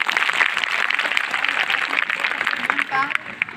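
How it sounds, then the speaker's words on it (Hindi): Students and staff at a school meditation session clapping, a dense burst of hands under overlapping voices, fairly close and moderately loud. "एक बार ताली तो होना चाहिए"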